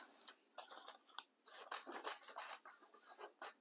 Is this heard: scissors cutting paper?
yes